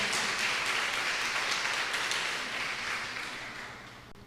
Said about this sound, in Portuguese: Vamos dar uma salva de palmas à palavra de Deus